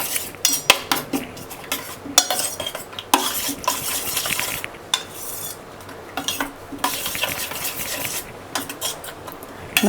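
A spoon stirs sautéed potato and onion into omelette batter in a bowl, making repeated close scraping and clinking strokes with brief pauses between them.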